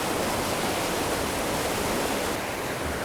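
A raging creek in the Eastern Sierra roars as a steady, loud, broadband rush of churning water, continuous and unbroken from start to finish.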